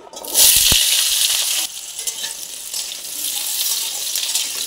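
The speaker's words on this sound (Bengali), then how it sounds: "এবার আমি ওই একই তেলে কয়েকটা আলু ভেজে নিচ্ছি।" Potatoes frying in hot oil that was just used for other fried items, a loud steady sizzle with a sharper burst as they go in, continuing alone without talk.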